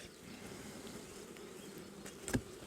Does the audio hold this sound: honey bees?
yes